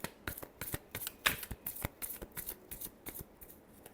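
Tarot cards being shuffled by hand in a quick run of crisp riffles and flicks, close and alone with no talk.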